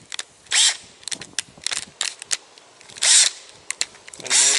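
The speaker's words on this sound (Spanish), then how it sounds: "Le vamos a dar la máxima velocidad y lo vamos a poner al taladro" A cordless drill set to maximum speed in drill mode whirs in a string of short, sharp bursts with brief pauses between them, close and loud, during pedal and rudder fitting on a small boat.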